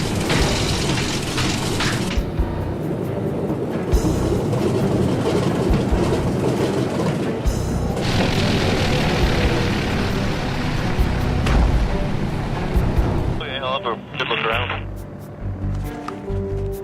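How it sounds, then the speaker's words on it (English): An old 18-cylinder aircraft engine on a water bomber backfiring during descent: a loud, rumbling drone broken by several sharp, heavy bangs. "the engine started backfiring"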